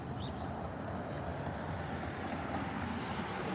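A car engine at an intersection, a faint, steady low rumble with wind-like noise that holds evenly the whole time, distant and without voices.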